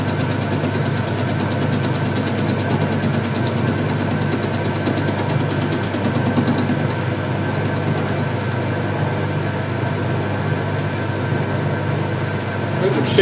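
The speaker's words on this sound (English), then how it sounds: "We'll just take the burrs off it and set it up in the lathe" A metal lathe machining a racer part hums with a steady, loud mechanical drone and faint rattling, running continuously with little change throughout.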